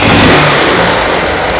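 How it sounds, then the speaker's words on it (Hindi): A Hero Ignitor 125cc motorcycle engine running on LPG with petrol off, loud and close, revving and running steadily after electric starting, with no talk over it. "अब मैं गाड़ी का सेल्फ लगाऊंगा"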